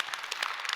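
A church congregation at a Friday evening revival service claps in praise, a soft, steady patter of many hands at a distance, fairly quiet and brief.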